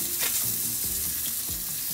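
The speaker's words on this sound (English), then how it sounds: "Did you hear that sizzle? That is what you want." Constant crackling sizzle of chicken frying in a hot pan, close and loud, with occasional scraping clunks of a utensil moving pieces around.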